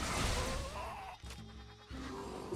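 In the Plants vs. Zombies video game, plants turned into sheep let out a couple of short wavering bleats against busy game sound effects and music.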